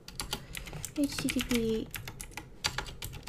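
Computer keyboard typing during a coding session, a rapid scatter of light clicks continuing throughout while someone speaks over it.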